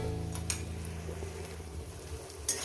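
Dried fish, garlic and green and dried chillies sizzling with onion in a pan, a steady close frying hiss with a few sharp crackles and stirring scrapes.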